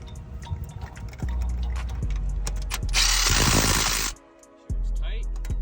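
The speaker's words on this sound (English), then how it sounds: "Okay, so now we can put these 16mm bolts back in here." A ratchet tightens 16mm CV axle bolts on a 2014 Nissan Maxima, giving a steady close mechanical whirring and clicking with a brief louder hissing stretch near the end.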